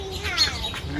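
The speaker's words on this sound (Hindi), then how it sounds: "वो जो चिड़िया शोर मचाकर उससे बुरी तरह से उसको खदेड़ रही है" A small bird gives a quick burst of sharp chirps while chasing off a crow outdoors, a brief close call over a low background hum.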